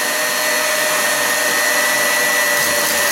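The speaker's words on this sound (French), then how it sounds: "Je vais laisser fouetter en gros jusqu'à ce que tout le sucre soit bien dissous dans les blancs" A stand mixer whisk whips egg whites and sugar for chocolate mousse with a loud, steady motor whine and whoosh that stays constant throughout, with no voices.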